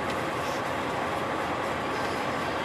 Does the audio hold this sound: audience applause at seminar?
no